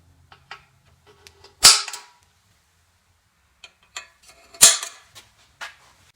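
Two sharp, loud metallic snaps a few seconds apart from a spring-loaded center punch, each a crisp click, with faint small taps and handling noises between them.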